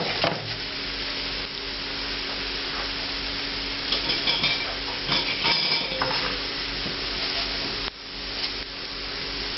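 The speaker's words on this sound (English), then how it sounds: "you can hear them sizzling" Spices for an Indian red curry masala paste sizzle and crackle in very hot oil, a steady bright hiss with sharper pops and a few clinks of a utensil against the pan.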